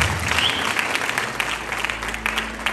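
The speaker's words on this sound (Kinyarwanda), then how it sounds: "Reka twese amateraniro dukomere Imana amashyi" Church congregation applauding together, a dense, fairly close burst of many hands clapping that holds steady for a few seconds.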